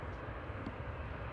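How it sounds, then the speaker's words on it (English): A Ryanair airliner from Milan taxies past at Manchester Airport, giving a brief, fairly faint low engine rumble and hum. "Ryanair from Milan, just about to roll past us."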